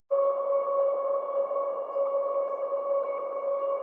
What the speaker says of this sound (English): Then we have another sound for like the atmospheric feel, and it's this tonal ambience.